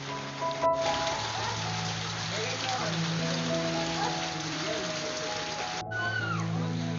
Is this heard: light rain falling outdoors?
yes